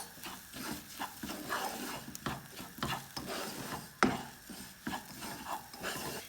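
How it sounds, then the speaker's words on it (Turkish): Bulgur is sautéed with tomato paste in a pan and stirred steadily, giving repeated close scraping and scratching strokes over a soft sizzle, with one sharper knock near the middle. "salçamızla simidimizi güzelce kavuruyoruz"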